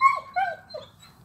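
A dog near a chicken coop lets out three close, clear high-pitched whimpers in quick succession, each falling in pitch.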